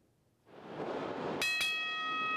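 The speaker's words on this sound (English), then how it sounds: "When that bell sounds, it is time to go to work." A bright ring bell at a pro wrestling event strikes twice in quick succession, then rings on with a clear sustained tone over a steady wash of background noise.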